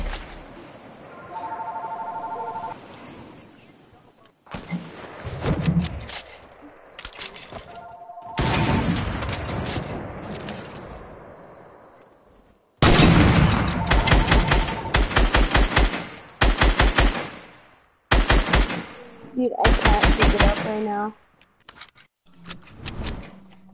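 Rapid machine-gun bursts and single shots in a duos and squads shooter video game, loud and close, coming in clusters separated by short pauses, with brief electronic beeps early on.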